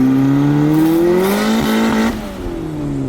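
Turbocharged Honda Civic engine revving hard toward boost cut, a loud, close, rising drone that climbs in pitch, then abruptly drops and stumbles as power cuts out.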